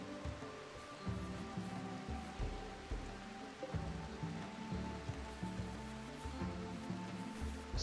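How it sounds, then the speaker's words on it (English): Steady rain falls in a video game scene, a continuous hiss of drops with low rumbling game ambience and scattered soft thumps underneath, no voices. "Now, fortunately, it's raining,"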